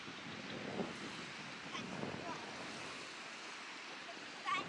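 Wind and surf at Prasonisi beach on Rhodes, a windsurfing spot where two seas meet, roaring as a steady broadband rush with gusts buffeting the microphone throughout.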